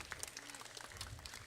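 An audience at a university event gives a short stretch of steady hand clapping, heard from a distance and fairly faint, with no talk over it.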